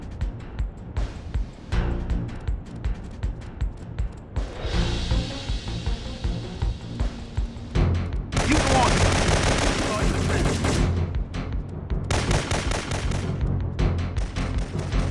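Gunfire from a sniper-heavy sector in the Syphon Filter 3 video game: loud, rapid shots in dense bursts, nearly continuous and building in intensity, with only faint traces of speech.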